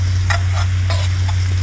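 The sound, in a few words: stirring flour into melted butter in a pan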